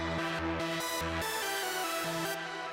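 A trance lead synthesizer in an emotional bass music production plays bright, buzzy sustained notes that change pitch in a stepped melody, loud and continuous with no talking.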